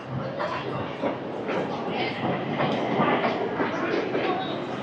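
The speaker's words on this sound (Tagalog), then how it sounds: "Yan na po yung train." A train rolls into a Bangkok station at rush hour with a continuous rumble and rattle of wheels and cars, fairly close and steady throughout, as a busy platform crowd murmurs underneath.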